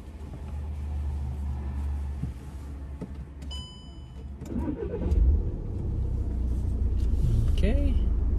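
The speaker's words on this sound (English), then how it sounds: "Okay, starting the car, buckled up." A car engine is started before a G2 road test in Oakville. A low idle rumble runs throughout, with a brief louder surge midway, and a voice talks over it.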